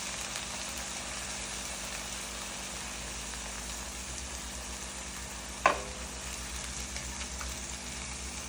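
Ingredients frying gently in a pan while being lightly browned, a steady soft sizzle throughout with one brief sharp clatter midway, no one talking.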